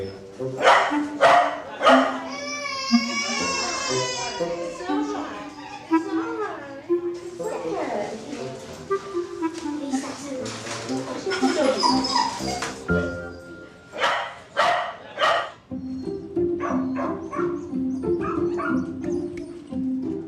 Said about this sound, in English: Look at the cute doggies.